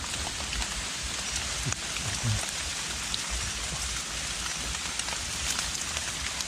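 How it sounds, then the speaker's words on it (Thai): Steady light rain falls continuously in a forest, a dense hiss of drops pattering on surfaces nearby, with no voices. "ฝนกระลิน"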